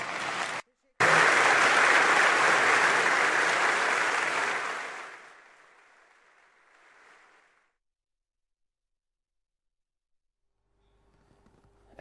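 Standing ovation from AK Parti members in parliament for Prime Minister Davutoğlu: loud, dense applause for about four seconds after a short gap, then fading out to silence.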